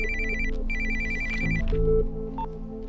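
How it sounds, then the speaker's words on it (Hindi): A telephone bell rings indoors in a Hindi-dubbed film scene, repeated loud trilling bursts with short gaps, close and clear with no talk over it. "फोन उठाइए।"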